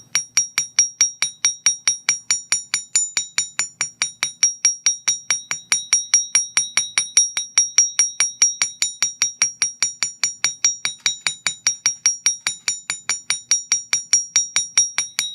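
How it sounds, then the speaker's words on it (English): A chasing hammer's ball peen side strikes metal wire for a handmade ear cuff or ring, giving a steady, rapid run of bright, ringing metallic taps that goes on for about fifteen seconds, close and with no voices. "my chasing hammer has a ball peen side. So I'm going to use the ball peen side, and I'm going to hammer"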